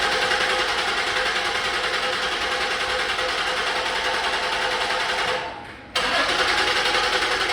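A 2010 Ford Edge 3.5L engine with a misfire cranks over in a steady, loud, fast whir that runs several seconds, drops out briefly near the end, then resumes.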